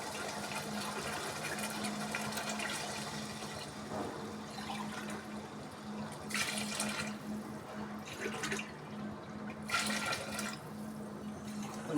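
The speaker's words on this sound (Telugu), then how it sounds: "ఇప్పుడు వాటర్ యాడ్ చేసుకొని సరిపడా బిర్యానీకి సరిపడా వాటర్ యాడ్ చేసుకోవాలి." Water pours into a pot of biryani in a home kitchen, a faint, steady splashing with a few louder gushing bursts toward the end, heard from a little distance with no talking.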